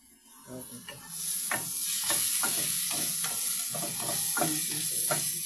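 Garlic and onion fry in a hot pan with a rising hiss that settles into a steady sizzle, broken by soft scraping taps of a utensil as they are stirred.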